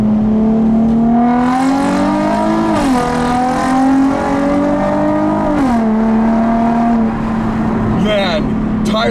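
A 2004 Nissan 350Z engine revs hard in first gear, its steady drone climbing and dipping as the throttle changes, loud and close throughout.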